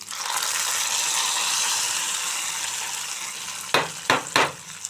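Hot fried tempering poured into gongura dal gives a steady broadband sizzle, then three sharp bursts of crackling and splashing near the end as it hits the dal and gets stirred in.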